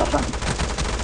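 Rapid gunfire in the mobile battle game PUBG Mobile, a quick burst of repeated shots filling a short moment of play, loud and close.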